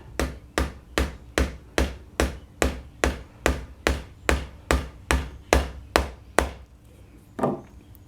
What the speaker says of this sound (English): And now we just want to tap it in and get it started.